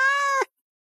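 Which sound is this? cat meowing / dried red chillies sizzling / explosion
cat meowing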